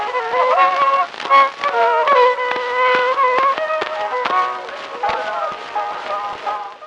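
Old phonograph field recording of a Romanian folk fiddle tune by an unknown fiddler: a fast, ornamented violin melody under heavy surface hiss and crackle, continuous and lo-fi.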